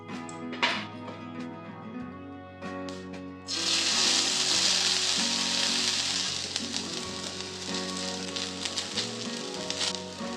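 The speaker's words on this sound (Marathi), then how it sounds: "आपण आता दुसरी पण फेणी टाकून घेऊ तुपात" Sweet potato pheni fries in hot ghee, starting quiet and then breaking into a loud, dense sizzle with crackles that runs on steadily, with musical tones underneath.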